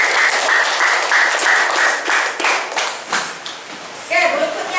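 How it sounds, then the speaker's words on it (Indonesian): A classroom of students claps together in a burst of applause, a dense, steady patter of many hands that holds for several seconds before thinning into scattered claps. "Oke teman-teman, terima kasih atas penjelasannya. Oke, tepuk tangan semuanya"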